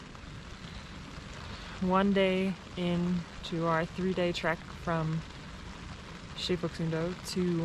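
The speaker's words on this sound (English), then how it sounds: "You can probably hear it's raining outside." Rain patters steadily on a tent pitched in Shey Phoksundo National Park during a Dolpo trek, a soft continuous hiss in the background beneath a man's close, talking voice.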